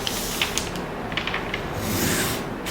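Scissors cutting through fabric for an ao dai sleeve, a close, steady rasping crunch with a few sharp snips as the blades close.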